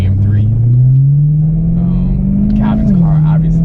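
A BMW E92 M3 engine drones steadily from inside the cabin, its low tone slowly rising in pitch then dipping near the end, with brief faint sounds above it.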